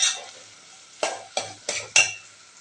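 Small onions are stirred into a tomato tamarind curry in a pan: four distinct scraping strokes of a spoon against the pan, each with a soft wet squelch, over a faint simmer.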